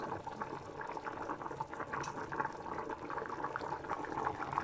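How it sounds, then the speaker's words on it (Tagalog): Vigorous bubbling of broth boiling hard in a pot with vegetable cubes, a steady rolling churn with no voices, close and continuous. "kumukulo na siya. Lakas ng kulo, no?"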